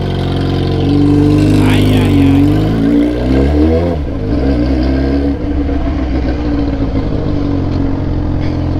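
A motorcycle revs while pulling a wheelie. The loud engine note climbs and falls in sharp sweeps, then settles into a steadier drone.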